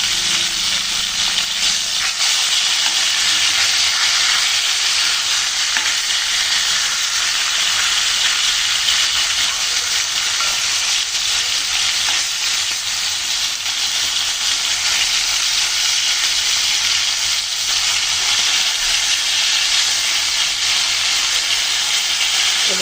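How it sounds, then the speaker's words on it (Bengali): Tilapia pieces fry in hot oil for a mushi kochu curry, giving a loud, steady hiss and crackle of sizzling that runs unbroken throughout with no voices. "তো মাছগুলো এখন তেল দিয়ে নিচ্ছি"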